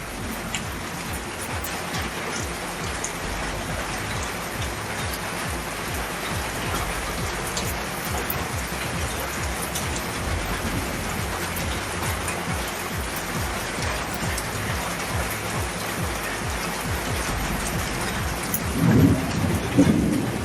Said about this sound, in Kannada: ವಿಜಯನಗರ ಜಿಲ್ಲೆಯ ಕೂಡ್ಲಗಿ ತಾಲೂಕಿನಾದ್ಯಂತ ಸಿಡಿಲು ಗುಡುಗು ಸಹಿತ ಸಾಧಾರಣ ಮಳೆಯಾಗಿದೆ